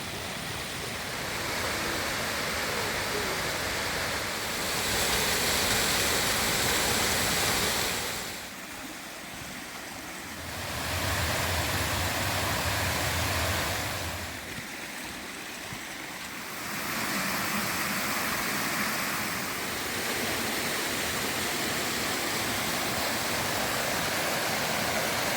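Mill Creek, a tributary of the Susquehanna River, rushes steadily in a broad, even wash of flowing water, swelling and dipping slightly in loudness over time, with no voices.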